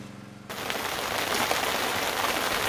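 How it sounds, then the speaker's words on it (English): Heavy rain pours down steadily outdoors, a dense, even hiss of drops striking surfaces that starts abruptly and continues without a break, with no voices. "as you can tell, it ain't just sprinkling, it is raining"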